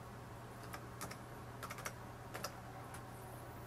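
Sparse, faint taps on a laptop keyboard come in short clusters, a few keystrokes at a time, over a steady low electrical hum.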